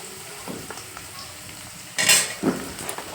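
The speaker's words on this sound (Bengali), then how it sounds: "প্রথমেই আমি বানিয়ে নেব ফুলকপির তরকারিটা, ফুলকপি মাশরুম দিয়ে।" Cauliflower and mushroom curry fries in a pan with a steady, close sizzle, broken by a few stirring scrapes and a louder hiss near the end as the pan is worked.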